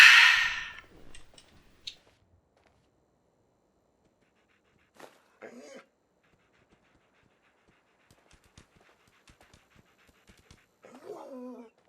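A dog in the Fallout 4 wasteland pants loudly up close at the start, followed by faint scattered sniffs and whimpers, then a brief whine near the end.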